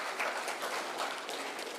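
Round of applause at a Zimbabwe prisons and correctional service conference on parole, a fairly faint, steady patter of many hands clapping together, with no talking.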